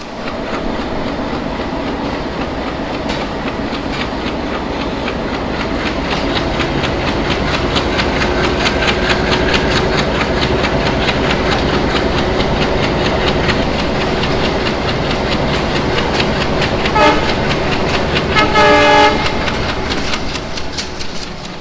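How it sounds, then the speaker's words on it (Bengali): The Nakshikantha commuter train pulls out of Khulna station with a loud, continuous engine drone and rolling clatter, and a short horn blast sounds near the end. "আমরা খুলনা থেকে বেরিয়ে যাচ্ছি এই মুহূর্তে আমার ঠিক পিছনে হচ্ছে খুলনা রেলওয়ে স্টেশন"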